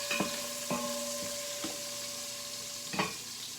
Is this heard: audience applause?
no